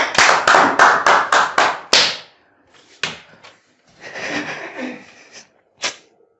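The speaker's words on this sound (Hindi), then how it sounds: "तालियां बजा दो एक बार यार" A class claps hands together in a quick burst of about seven loud, sharp claps, followed by quieter scattered claps and a few isolated taps.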